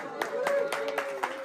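A crowd claps in rhythmic bursts at a Florida press conference. The claps come roughly every quarter second and sit under a steady voice that talks through the whole stretch.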